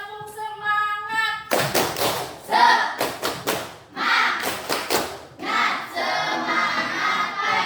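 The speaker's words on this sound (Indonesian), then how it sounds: "Satu kali lagi," A classroom of children repeats the tepuk semangat chant, chanted voices alternating with tight clusters of loud, rhythmic hand claps, close and energetic.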